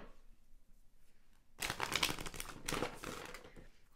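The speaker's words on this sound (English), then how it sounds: "If you guys get bored with my shuffling," Tarot cards are shuffled close up after a quiet start, with rapid riffling and flicking bursts that come in two or three waves, crisp and fairly soft.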